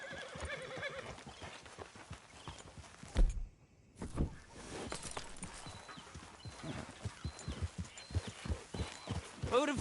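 Horse hooves clip-clop in a steady, evenly spaced rhythm as a horse is ridden in a video game, fairly quiet and close, with a brief pause partway through and faint ambient game sound underneath.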